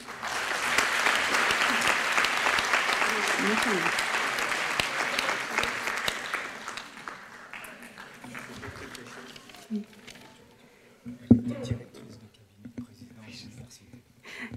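A ceremony audience at a doctoral graduation claps steadily for several seconds, a full room of applause that fades out into low murmurs and scattered voices.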